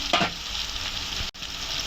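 Potatoes fry in a pan with ginger and garlic, giving a steady close sizzle with a scraping stir near the start and a brief gap near the end.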